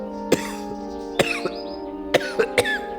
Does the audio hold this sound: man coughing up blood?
yes